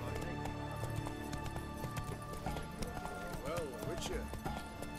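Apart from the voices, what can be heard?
horse hooves galloping in video game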